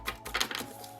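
An oracle card deck being shuffled by hand, a brief papery riffle of quick overlapping flutters lasting about a second, close and fairly quiet with no talking.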